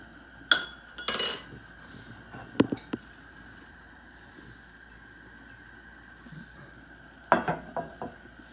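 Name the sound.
spoon scraping specks off clarified butter in a pan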